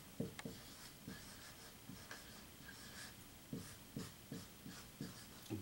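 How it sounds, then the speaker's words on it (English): Pencil writing by hand on paper during a fourth-grade math lesson, with short scratchy strokes repeating in an irregular rhythm, soft and close against a steady low room noise. "I'm going to write Connie and Esther"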